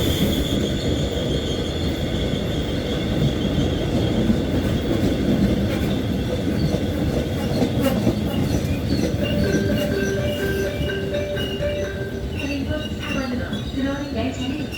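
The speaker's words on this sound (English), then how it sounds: "The train approaching." A train approaches a station, rumbling steadily with a rhythmic clatter of wheels and occasional metallic squeals that rise toward the end, while a platform announcement plays over the noise.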